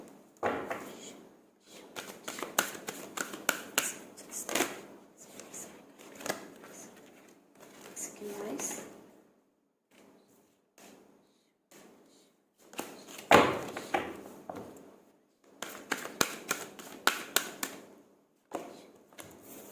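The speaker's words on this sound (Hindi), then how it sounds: "कुछ और कार्ड्स लेते हैं गाइस दूसरे डेक से।" Tarot cards shuffled and pulled from a second deck, making close, quiet clusters of quick papery flicks and riffles, with longer pauses between the runs.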